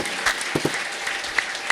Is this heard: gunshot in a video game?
no